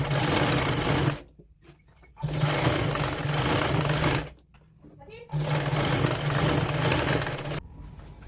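A sewing machine stitches a woolen kurti in three loud, steady bursts of running, with short quiet pauses between them where it stops.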